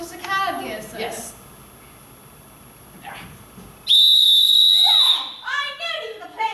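A sporting whistle blown in one long shrill blast lasting about a second, loud and close, with people talking before and after it.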